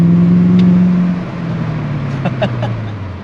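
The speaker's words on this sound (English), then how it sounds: "It's idling nice and smooth. Thing sounds sick." A 2003 BMW 540i with a custom Vibrant exhaust hums with a deep, steady exhaust drone that drops slightly in pitch and settles into a smooth idle, with faint clicks near the end.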